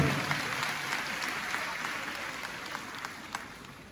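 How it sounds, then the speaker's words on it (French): An audience at a ceremony claps steadily but fairly faintly, a diffuse wash of applause with a few sharper individual claps standing out. "On applaudit très très fort"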